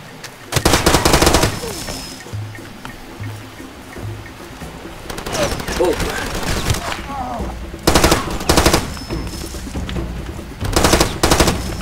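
Repeated bursts of automatic gunfire from a weapon in Far Cry 2, loud and close, firing in several separate volleys with short pauses and a quieter stretch between them.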